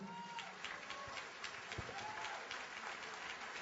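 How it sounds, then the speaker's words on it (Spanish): Faint, distant applause from an audience at a national business meeting in Mexico, steady scattered clapping with a few sharper claps standing out, heard with a muffled, band-limited quality. "Les queremos pedir un aplauso, por favor, para Andrés Manuel López Obrador,"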